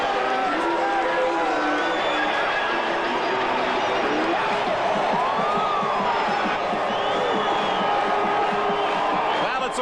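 A pro-Calgary stadium crowd at Taylor Field roars and cheers through the 1995 Grey Cup after a Calgary touchdown run. The noise is a sustained, dense wash of distant cheering with scattered whoops.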